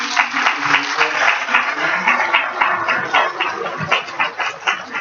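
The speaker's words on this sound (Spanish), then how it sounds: "por favor, un aplauso a la doctora" An audience at a clinical psychology conference applauds a female doctor, with fairly close, brisk clapping filling the whole stretch and a few sharper individual claps standing out.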